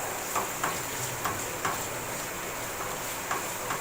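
Minced meat keema with whole spices fries in a pan, giving a soft, continuous sizzle broken by faint, evenly spaced clicks, probably from stirring. No one talks.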